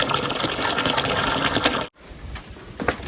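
Water gushes steadily from a pipe or outlet at a farm, loud and continuous. It cuts off abruptly partway through, and quieter splashing and trickling follow.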